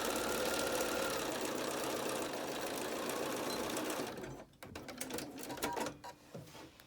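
A sewing machine stitches a fabric mask along the fold of the outer fabric, running in a fast steady whir for about four seconds before stopping, followed by quiet handling clicks.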